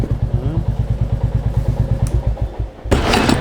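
A motorcycle exhaust fitted with a Red Rooster performance silencer on a Royal Enfield Reborn or Meteor, idling in a steady, close, deep pulsing thump, then a louder rev burst near the end.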